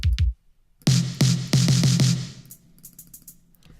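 Retro synthwave drum samples: a couple of low kick thumps, then a bright, reverberant snare-like hit repeated in a quick run of four, followed by faint ticking hi-hat taps trailing off.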